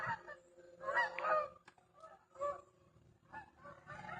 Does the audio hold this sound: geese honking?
yes